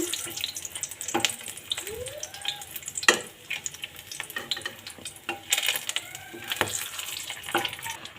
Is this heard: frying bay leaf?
yes